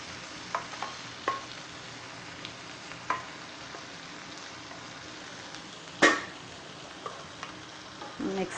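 Rice is stirred in a pan of hot oil and turmeric for Kerala-style lemon rice, with a faint steady sizzle, soft scraping strokes and a few light clinks of the spoon against the pan, one louder knock near the end.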